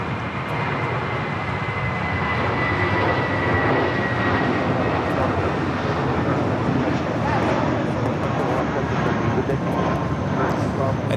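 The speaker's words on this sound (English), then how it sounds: "This flight coming in from Atlanta, Georgia on the 757-300." A Boeing 757-300 airliner from Atlanta approaches LAX, a steady broadband engine roar that holds loud and continuous throughout, with a faint whine above it and occasional voices mixed in.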